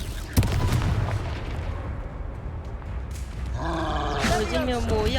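Confringo fire spell cast in the video game Hogwarts Legacy, a sharp blast followed by a roaring, booming burst of fire amid ongoing game effects, with a voice shouting over the action.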